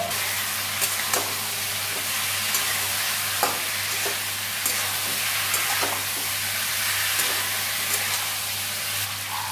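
Cauliflower and potato pieces with salt sauté in a spiced pan, a continuous close sizzle with regular scraping stirs and spoon taps, no voices.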